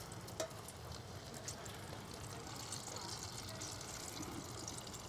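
Potato skins deep fry in hot oil on a griddle outdoors, giving a steady, faint sizzle and bubbling hiss that holds level throughout, with a hint of voices in the background.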